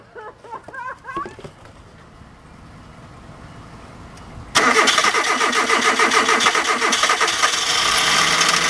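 An old Hyundai car engine cranks and catches, with a sudden loud broadband roar that settles into a steady, close running idle after a few seconds of quieter, uneven sputtering.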